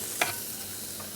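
John Dory fillets dusted with cocoa sizzle in a frying pan with a steady close hiss and one brief clatter as they settle, with no talking.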